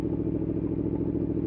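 A motorcycle engine chugs at low RPM, a close, loud, rhythmic low throb with steady pulsing over a short stretch.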